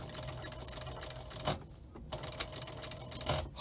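A sewing machine stitches close up in quick mechanical bursts of needle clatter, separated by brief pauses, moderately loud with no talking.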